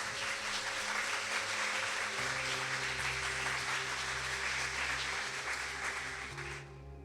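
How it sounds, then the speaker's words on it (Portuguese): A church congregation at a family worship service gives sustained, even applause for a girl, the clapping washing over a soft organ or keyboard chord before tapering off at the end. "Uma salva de palmas para essa menina aí"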